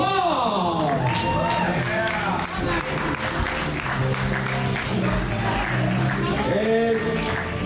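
Audience applause and crowd noise fill a room at an amateur improv show as new players are introduced, steady and dense throughout with voices mixed into the clapping.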